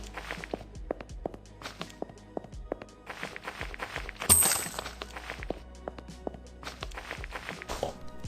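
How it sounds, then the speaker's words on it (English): Steady video game footsteps crunch along over gritty rock surfaces in a brisk rhythm, retro-styled sounds from a first-person shooter, with a brief louder thump partway through and a faint synthetic hum underneath. "crunchy rock sounds or bridge sounds or brick sounds are gonna play based on those surfaces"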